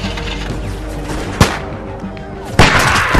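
Gunfire in The Walking Dead video game: two loud, close gunshots a second apart cut through a steady din of background noise and distant scuffling, with no clear speech under the shots.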